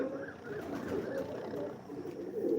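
Young Malwai pigeons coo softly in a rainy season, a low, steady murmur of cooing at moderate distance with no talk.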